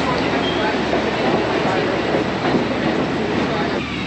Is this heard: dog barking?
no